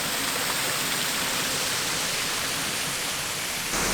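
Small waterfall at a roadside rest area by Lake Biwa in Japan, a steady broadband rush of falling water, even and continuous, heard alone without voices.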